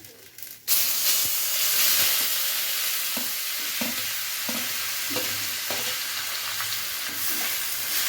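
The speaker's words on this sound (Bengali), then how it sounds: "আমি যে পেঁপেটা গ্রেট করে রেখেছিলাম সেটা আমি তেলে ছেড়ে দিলাম।" Grated papaya dropped into hot oil with bay leaves, bursting into a loud, continuous close sizzle with hissing steam and occasional stirring knocks after a brief quieter start.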